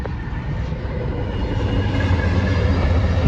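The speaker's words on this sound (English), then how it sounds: "Amtrak coming along just as we're stopped at the Marfa" An Amtrak passenger train rolls past a roadside stop near Marfa, West Texas, a steady loud rumble building and growing heavier over a few seconds, with no talking.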